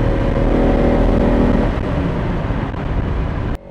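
A car engine, from a Lamborghini versus Škoda comparison drive, revs hard while accelerating, a loud continuous roar that eases near the end and cuts off sharply before a brief final burst.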